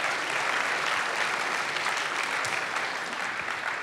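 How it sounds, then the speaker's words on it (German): Sustained audience applause fills the hall at a youth hackathon final presentation event, a dense, steady wash of many hands clapping at even loudness throughout, with no talk over it. "ihr dürft gerne klatschen"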